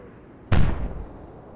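A naval star shell fires in an Atlantic Fleet naval battle game, one sudden loud boom that decays quickly into a brief rumbling tail.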